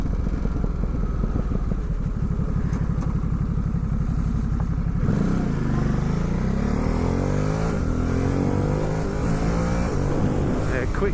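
A Ducati Supersport 950S motorcycle with a quick shifter engine drones steadily up close, then pulls hard with rising revs as it accelerates through gear changes, staying loud throughout.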